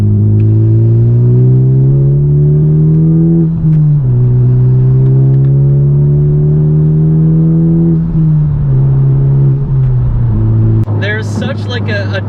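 Car engine fitted with an aftermarket downpipe, held at a loud steady drone and then stepping up in pitch as it revs, close to the listener.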